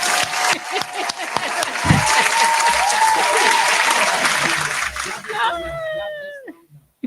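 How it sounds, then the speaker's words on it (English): Several seconds of dense applause from a group clapping together, fading out and followed by brief whistling and cheering. "I got to clap for you again."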